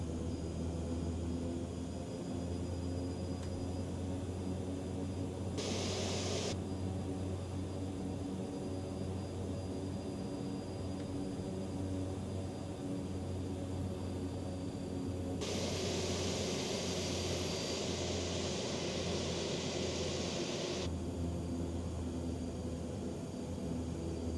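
An aircraft taxiing to parking at Spirit of St. Louis airport in Microsoft Flight Simulator 2020 gives a steady, close engine drone with a broad rushing hiss that swells in two stretches.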